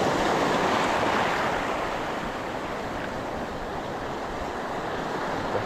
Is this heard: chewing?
no